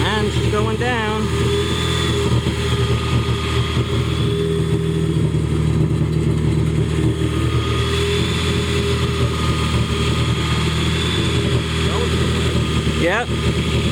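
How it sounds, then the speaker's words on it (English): A Yamaha jet boat motor runs steadily out of the water while being winterized with antifreeze, a continuous mid-loud engine drone throughout, with people talking over it. "Motor's running, and here we go."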